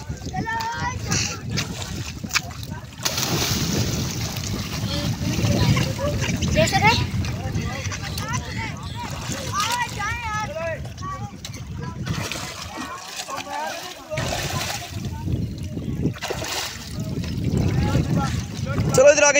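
People jump into outdoor water on a windy day, with repeated splashes and sloshing mixed with wind buffeting the microphone, while several voices shout and talk throughout.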